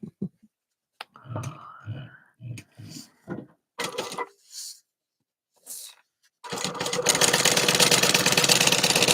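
A sewing machine stitches a passport wallet, a steady close mechanical whir running continuously after short bursts of speech and handling noises.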